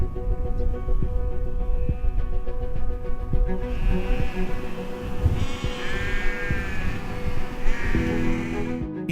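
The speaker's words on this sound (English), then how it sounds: "Herds of yaks and sheep scatter over the hills" Sheep bleat repeatedly across open Tibetan grasslands, several calls rising one after another at moderate distance over a steady outdoor backdrop, with a herd of sheep and yaks scattered over the hills.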